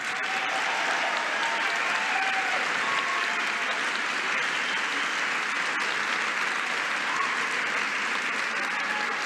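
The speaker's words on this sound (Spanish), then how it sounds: "un aplauso muy fuerte a sus familias por todo lo que hacen" A large crowd at a formal ceremony honoring Pan American Games athletes applauds their families: strong, continuous clapping that holds steady for over nine seconds, filling the hall with an even roar.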